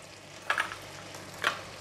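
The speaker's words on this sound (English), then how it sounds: "When the gamhyang sauce is getting hot, I'm going to toss in the fried prawns" Fried prawns go into hot kam heong sauce with a quiet steady sizzle. Two brief scraping tosses stand out, and no one speaks.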